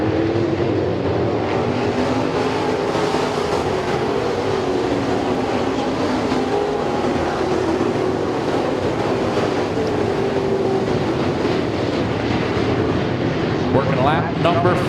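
Race cars lapping at the Speedzone track, a steady loud engine roar running the whole time with passing cars rising and falling, under continuous race commentary.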